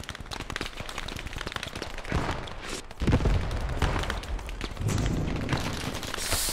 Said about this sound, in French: C'est le véhicule là qui nous tire dessus.